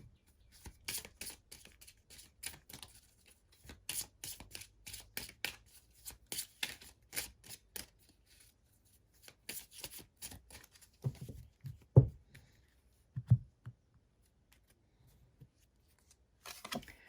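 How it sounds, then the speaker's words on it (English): Reiki tarot cards are shuffled and handled up close in a quiet room, giving soft, scattered papery flicks and riffles in irregular bursts with a few faint knocks. "So let's draw some Reiki cards."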